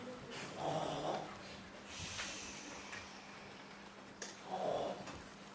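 A stage actor in a school musical production of Into the Woods imitates a wolf's loud snoring, giving two long, breathy snores about four seconds apart, heard close over a faint hum.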